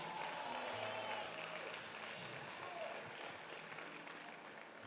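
Church congregation gives applause to the Lord during a sermon, a faint, distant wash of steady clapping that slowly thins, with low murmuring voices underneath.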